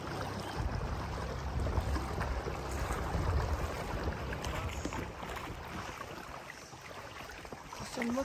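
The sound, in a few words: boat engine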